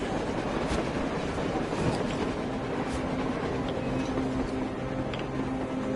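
A train running on the surface in the video game Metro Exodus, a continuous rumbling rail roar with faint rhythmic clatter and a tonal hum, fairly loud and with no talk.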